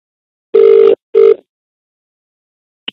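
An outgoing phone call gives two steady dial-tone bursts, one longer and one shorter, followed by silence and a faint click near the end, with no voices.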